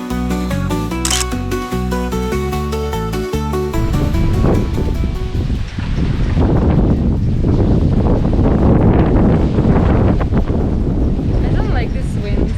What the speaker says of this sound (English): I don't like this wind.